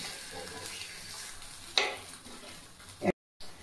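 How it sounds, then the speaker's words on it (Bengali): Small vegetable idlis frying in oil in a pan, a soft steady sizzle with a couple of sharp scraping clicks as pieces are turned, close and fairly quiet. "এবার এগুলোকে আমি উল্টে দেব, মানে দুপাশ আমাকে সমানভাবে ভেজে নিতে হবে।"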